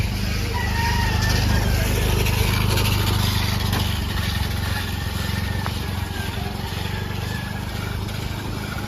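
A motorcycle engine drones steadily throughout, a constant low rumble with faint chicken clucks in the background.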